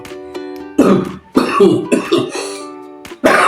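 Several loud, close coughs and throat clearings in uneven bursts, with short quiet gaps between them.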